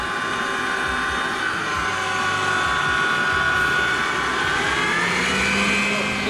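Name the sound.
mixer whipping egg whites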